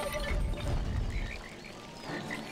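In the A Series of Unfortunate Events video game, a frog croaks in low, rumbling bursts that fade after a moment, heard alone without speech.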